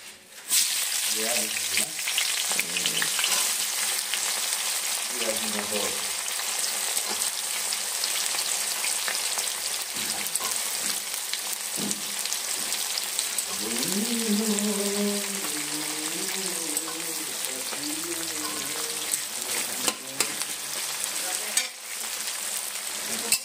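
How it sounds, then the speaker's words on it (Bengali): Onions fry in a pan toward reddish-brown with a continuous, dense sizzle and crackle like steady rain, joined by occasional stirring scrapes, while a voice speaks now and then over it. "পেঁয়াজটা আমি লাল লাল করে ভেজে নেব।"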